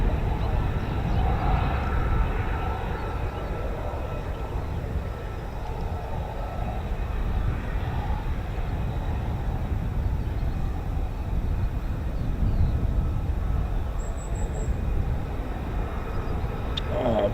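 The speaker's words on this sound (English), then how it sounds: "if it's the pilot I think it is in this F-35, then expect some interesting departure" An F-35B stealth fighter jet departs, a deep continuous roaring rumble that swells and holds loud throughout, heard from some distance with a brief voice near the start.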